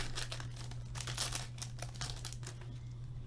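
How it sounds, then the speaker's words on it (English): Foil trading card packs of Upper Deck Trilogy hockey cards crinkle and rip open close by, a busy run of crackling tears over a low steady hum, with no talking. "it's my hot hands that just like make the packs just rip off easily"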